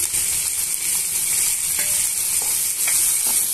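Onions, green chillies and turmeric sizzle in a pan for masala dosa filling, a steady loud hiss of frying with soft stirring clicks throughout.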